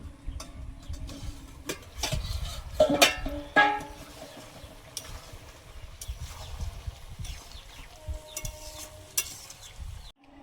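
Meat and potatoes cooking down for a curry in a pan, with a spatula scraping and knocking in irregular strokes over a soft, steady sizzle, close and fairly quiet.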